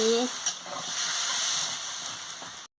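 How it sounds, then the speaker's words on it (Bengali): Vegetable curry of bottle gourd stems, potato and eggplant stirred in a pan just after water is added, giving a continuous close hiss of steam and bubbling with a soft clink near the start. "আমি পরিমাণ মতন জলটা দিয়ে দিচ্ছি, দিয়ে ভালো করে নাড়িয়ে নিচ্ছি।"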